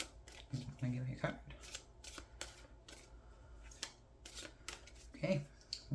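Tarot cards being shuffled and handled in a reading, with soft riffling and flicking bursts heard close up under a person talking throughout.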